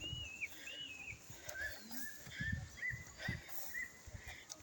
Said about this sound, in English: Let me just keep quiet for some minutes so that you can hear those birds.